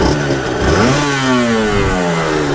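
A 1988 Honda NSR250 (MC18) two-stroke motorcycle, just started on a weak battery, runs close by with a buzzy, rattling note, its revs dropping and then climbing again in a couple of quick blips.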